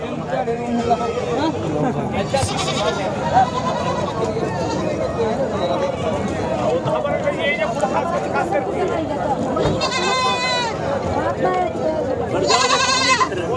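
Goats and sheep bleat at an outdoor goat and sheep market in Sangola, with several calls rising over a constant din of crowd chatter and talk for the whole stretch.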